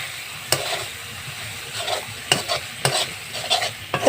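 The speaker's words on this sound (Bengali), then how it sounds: "জল দিয়ে ভালো মতো নাড়তে হবে" A fish curry being stirred in a pan with turmeric and water, soft bubbling sizzle under a few distinct spoon knocks and scrapes against the pot, close and moderately quiet.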